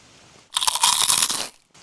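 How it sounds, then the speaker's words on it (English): Crunchy brownie brittle bitten and chewed close up during stormy November camping, a dense burst of loud crisp crunching lasting about a second, with faint background noise before and after. "I wasn't going to eat it on camera because it's very, very crunchy."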